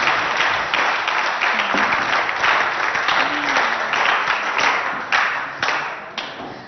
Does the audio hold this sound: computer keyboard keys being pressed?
no